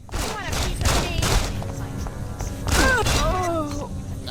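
Gunfire in Deus Ex landing a headshot: several loud sharp shot bursts in quick succession, followed by a groaning voice and clattering impact.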